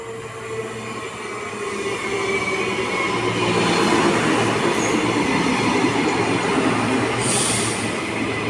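An NGR electric passenger train pulls into platform 1 at Helensvale station on the Gold Coast, a steady loud rumble of wheels on rails with brief high wheel squeal near the end, no talk.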